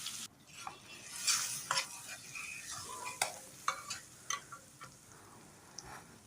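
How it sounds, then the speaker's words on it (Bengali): Onion paste fries in a kadai, following fried prawns, with a soft sizzle and a series of quiet spoon scrapes and taps that come every half second or so. "পেঁয়াজটা এবার ভালো করে আমি ভাজবো।"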